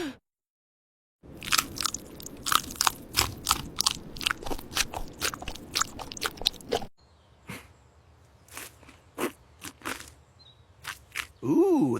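Animated cartoon eating of crunchy cabbage: a rapid run of sharp, close crunches with chewing for several seconds, then quieter, sparser bites and a final loud crunch.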